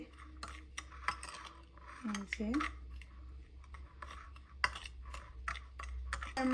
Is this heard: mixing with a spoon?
yes